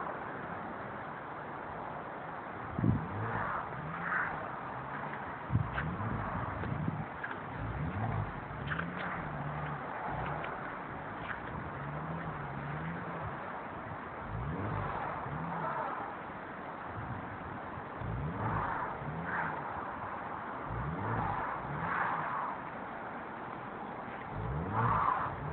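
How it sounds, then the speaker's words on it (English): Car engine revving repeatedly as the driver struggles and fails to get the car out of a driveway, rising and falling whines with occasional tire noise, steady and moderately distant, with birds faintly in the background. "is trying to get his car out of the driveway."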